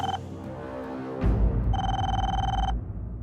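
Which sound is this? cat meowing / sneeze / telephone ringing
telephone ringing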